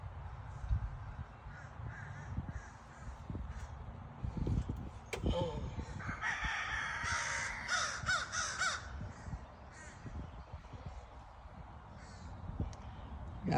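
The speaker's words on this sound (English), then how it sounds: "There go those blackbirds, if you can see them." Several blackbirds caw from a short distance over rice on wooded farmland where timber is being cut, the calls coming in a burst mid-clip, with low rumbling noise and a voice underneath.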